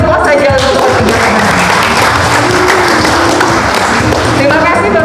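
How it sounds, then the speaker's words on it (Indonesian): An audience claps loudly and steadily for about five seconds, a dense continuous applause filling the room from start to finish, with some voices mixed into the crowd. "Kita berikan aplaus saja untuk ketiga."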